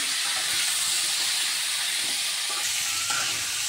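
Vegetables for a Bengali rosha curry fry together in hot oil, giving a steady, close, dense hiss and sizzle that holds evenly throughout with no voices.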